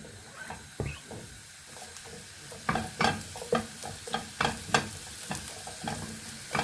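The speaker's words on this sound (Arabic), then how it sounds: "هلا حمي الزيت عندي، بدي انزل الفطر" Mushrooms dropping into hot oil and frying in a pan on a strong gas flame, a steady sizzle broken by bursts of stirring and spatula scrapes that come in quick clusters, close and fairly loud.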